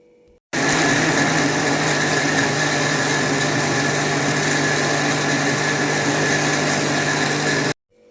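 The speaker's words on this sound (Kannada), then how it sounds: "ಈಗ ನೋಡಿ ಮಿಕ್ಸಿಗೆ ಹಾಕಿ ತಂದಿದ್ದೇನೆ" A mixer grinder whirs at full speed grinding onion dosa batter, starting abruptly and holding a loud, steady motor drone for about seven seconds before cutting off sharply, close and alone.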